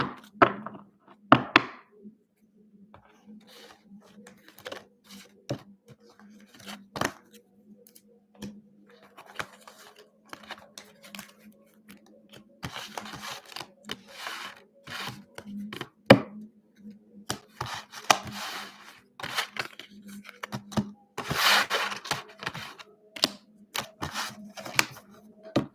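Tarot cards being shuffled by hand in a quiet indoor room: repeated soft riffling and flicking bursts with scattered taps and thumps, close and fairly quiet, no talking.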